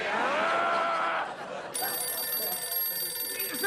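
A telephone rings with a bright, steady electronic trill that cuts in partway through and keeps going, following a voice in an indoor scene.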